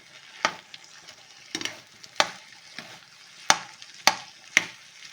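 Cooked rice is stirred into temple-style pulihora mixture in a pan over low flame. The spoon scrapes in sharp, irregular strokes about once a second over a soft background sizzle, and no one talks.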